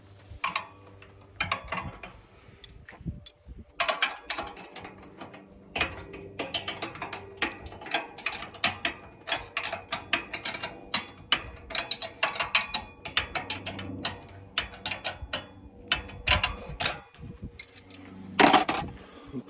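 A ratchet wrench clicks repeatedly while tightening a bolt on a 4-inch square bumper mount, quick bursts of close ratcheting with brief pauses between strokes.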